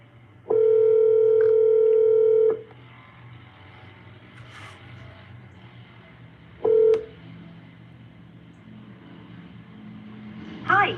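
Touch-tone telephone dialing for a cold call to a vacant land owner: a long steady tone near the start, then a second short beep, over a faint background hum with no talking.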